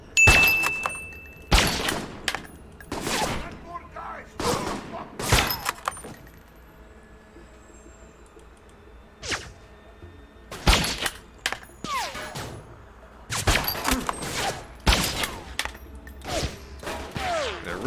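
Sniper rifle gunfire in the video game Alpha Protocol: a series of sharp, loud shots in irregular clusters, with quieter gaps between bursts and some clattering in the background.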